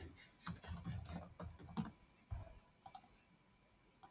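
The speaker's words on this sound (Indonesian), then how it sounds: "Input misalnya di sini Wonder Woman." Close, quiet typing on a computer keyboard, with bursts of rapid clicking keystrokes in an uneven rhythm followed by a few isolated taps.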